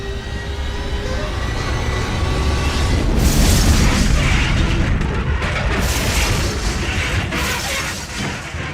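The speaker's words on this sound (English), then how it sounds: "the gas cloud explodes, creating an explosion equivalent to the bomb dropped on Hiroshima." A gas cloud near a train line explodes in a deep, roaring blast that swells into sustained rumbling with crackling bursts, loud and continuous throughout.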